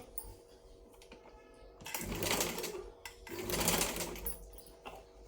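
A sewing machine stitches a lined blouse in short bursts of rapid mechanical chatter, with quiet handling between them. Two loud runs stand out, and light clicks come before them. No one speaks over the machine.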